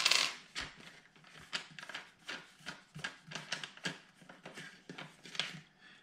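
Canadian dollar coin turning screws on a Castle X EXO CX590, giving a run of small metallic clicks and scrapes in an uneven rhythm, close and fairly quiet with no talk.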